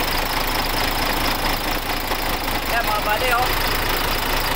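Freshly overhauled MAN diesel engine running steadily after being started, a loud continuous idling rumble with someone speaking briefly over it.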